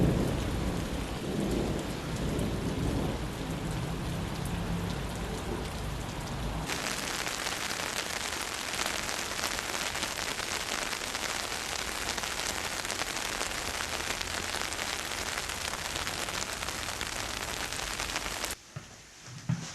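Heavy rain pours down steadily with rumbling thunder, loud and continuous for most of the stretch, shifting to a denser downpour partway through before cutting off abruptly near the end.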